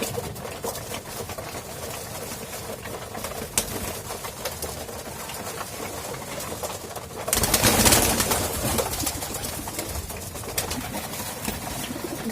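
Pigeons coo softly and continuously nearby while feeding together, with a brief burst of rustling or fluttering partway through and occasional light taps.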